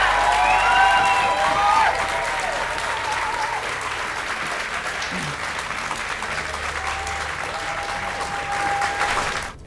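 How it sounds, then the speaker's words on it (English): A live audience at an author's book event claps loudly and cheers for a full ten seconds, the steady ovation holding throughout with scattered whoops. "he deserves one more big round of applause"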